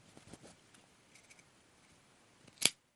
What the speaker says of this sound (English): then snip those ends